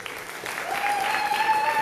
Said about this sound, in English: a huge round of applause to the PAL network team members who've put this conference together